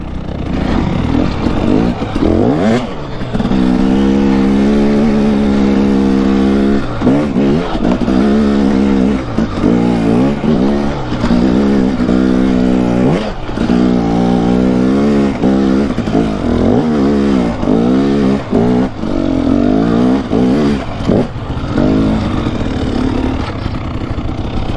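An off-road vehicle roars hard in first gear on a dirt trail, its loud engine surging and dropping in repeated revving bursts close by, with no talk over it.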